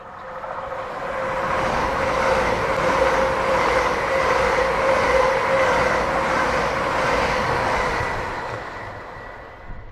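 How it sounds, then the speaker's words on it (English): Express passenger train 1S17 thunders through Alnmouth station, a loud steady rumble and rush of wheels on rail that builds, holds for several seconds and eases off, with no voices. "we see train 1 Sierra 17 passing through almost 3 hours late"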